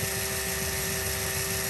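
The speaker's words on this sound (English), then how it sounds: "Let's get the hole drilled" A power drill boring a hole in the body of an Elddis CV20 camper van for USB and 12V sockets, a loud continuous whine held steady at close range with no talking.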